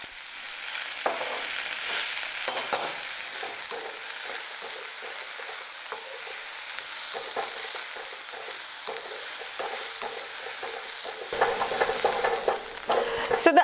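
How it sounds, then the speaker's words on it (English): Onions fry in a pan for Maharashtrian kanda poha, a continuous bright sizzle with scattered scrapes and clicks of stirring throughout, no voices. "We have to make sure that the onions are fully cooked."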